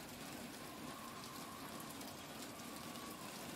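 Faint steady rain falling in the video game BioShock Infinite, a soft continuous hiss with a low rumble beneath, no voices.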